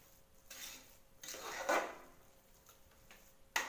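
A spoon stirs and mashes ven pongal in a pot, giving a few soft scraping strokes and metallic clinks, close but quiet, with a sharper knock at the end.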